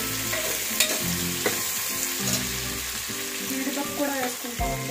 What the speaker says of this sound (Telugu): ఇవన్నీ కూడా మీడియం ఫ్లేమ్లో వేయించుకోవాలండి. పచ్చి బఠానీలు వేసుకుంటామండి, అలాగే పచ్చిమిర్చి.